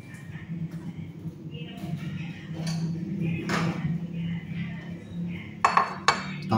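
Knife and cutting board handled in a kitchen while preparing fruit soup, giving scattered clinks and clatters of utensils, with a sharper cluster of knocks near the end, under background voices.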